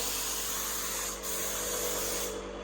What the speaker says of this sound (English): I'm spraying a little bit down on the side, a little bit up on that edge